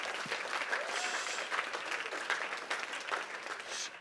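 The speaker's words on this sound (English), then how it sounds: "can we have a special round of applause for Mrs. Dupriest and the lower school administrative team who helped get this together?" Applause from a school event audience, a fairly quiet, distant patter of clapping that continues steadily with small swells.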